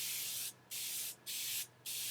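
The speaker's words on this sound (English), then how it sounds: "using my Morphe Life Proof Setting Spray" Morphe Life Proof setting spray misted onto a face in four short, close hissing bursts separated by brief pauses, with no talking.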